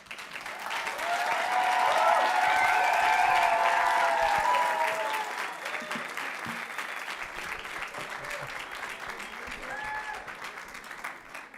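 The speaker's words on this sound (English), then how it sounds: "Another round of applause for the three teams." Sustained audience applause for three presenting teams after a marketing campaign presentation, building to a loud peak and then easing into steady clapping, with some voices underneath.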